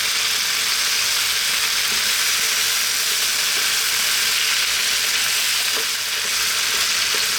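Sausages and chopped bell peppers fry over medium heat in a pot for a sausage stew, giving a loud, continuous, close-up sizzle with faint stirring clicks and no talking.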